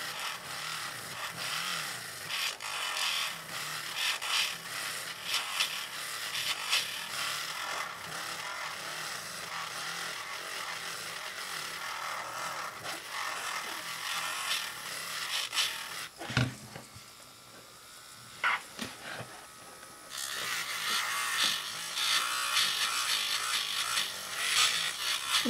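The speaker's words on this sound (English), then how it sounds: "I'm actually going to use my nail drill right here" A small electric nail drill buzzes against a poly gel nail extension, smoothing it in a steady, rasping whir, pausing briefly partway through before resuming.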